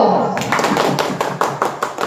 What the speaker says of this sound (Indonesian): Kita kasih tepuk tangan untuk kelompok satu.